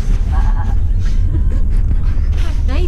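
A person imitates a sheep with a wavering, nasal bleat near the end, and other voices come before it. The sound is loud and close.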